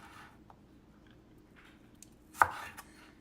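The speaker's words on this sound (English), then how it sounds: "The white part, you are going to cut it diagonal like this." Knife slicing the white part of a green onion diagonally on a cutting board, one sharp close chop standing out in a quiet room, with a few faint taps before and after.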